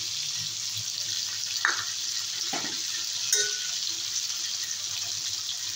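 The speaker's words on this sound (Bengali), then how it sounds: "মাছ ভাজা হয়ে গেছে, দিয়ে দেবো কাঁচা লঙ্কা।" Hilsa fish fries in a pan with green chillies, producing a continuous close sizzle broken by a few brief stirring knocks.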